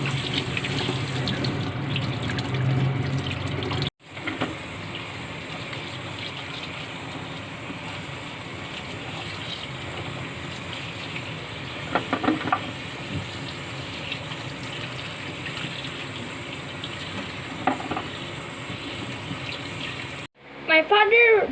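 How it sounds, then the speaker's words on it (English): Tap water runs steadily into a kitchen sink while a salmon steak and vegetables are washed, a constant close gushing broken by a brief cutoff and shifting splashes, ending with a short clatter. "I wash my hands before washing the salmon steak and vegetables properly."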